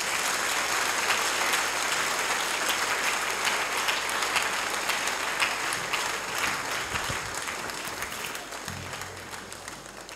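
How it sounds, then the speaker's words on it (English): A congregation at a memorial lecture gives a clap offering for a woman named Nana as she stands: loud, sustained, full-room applause from many hands, steady throughout and easing slightly at the close. "Shall we give a clap offering even as she stands?"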